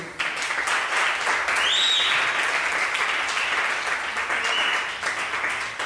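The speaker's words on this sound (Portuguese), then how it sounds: "Você pode aplaudir o Senhor?" Church congregation applauding together, a steady dense wash of clapping that holds loud and even throughout, with a few brief tonal sweeps rising above it.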